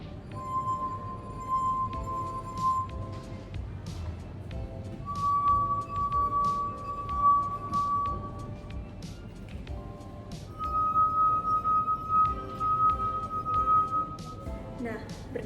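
Wet fingertips circle the rims of water-filled drinking glasses, drawing sustained ringing tones that shift pitch from glass to glass across three long passages, with faint clinks and background murmur beneath.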